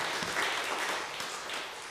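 Church congregation clapping together in sustained applause, a dense, steady wash of many hands that stays fairly even and full for the whole stretch with no voices standing out.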